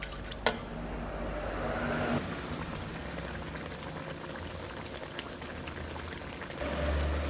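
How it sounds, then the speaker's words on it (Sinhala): Kerala style egg curry gravy simmering in a pot, a faint steady bubbling and crackle with a soft clink near the start. "හොද්ද මේ හොඳට ඉදෙන්න දෙන්න ඕනේ"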